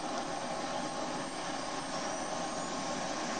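Jet engine spooling up in the Falcon BMS 4.33 flight simulator game, a steady broad whine and roar with a faint rising tone, continuous and even, with no talk.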